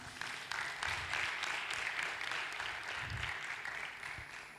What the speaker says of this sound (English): he does deserve a clap from all of us